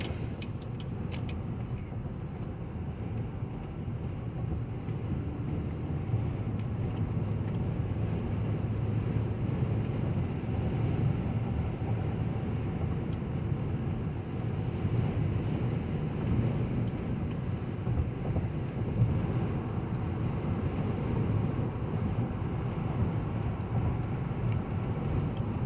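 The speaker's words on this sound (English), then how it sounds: "Now it's extremely windy, but I'll still go ahead." Strong wind buffets a 2015 Cadillac Escalade while it drives with adaptive cruise control, a continuous low rumbling roar of wind and road noise that stays loud and steady throughout.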